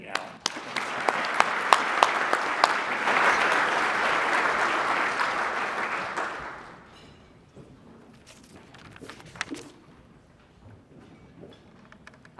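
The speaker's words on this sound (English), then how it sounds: "Another round of applause for Deputy Allen" Applause for a sheriff's deputy at a regional police awards ceremony: a crowd's clapping swells and holds for several seconds, then thins into scattered claps and murmurs as it dies away.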